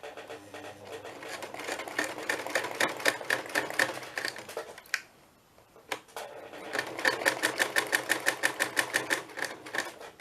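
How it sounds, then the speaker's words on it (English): A sewing machine stitching paper runs in rapid rhythmic bursts, pauses briefly in near silence, then starts up again with steady mechanical clatter. "So just going to sew around this little embellishment."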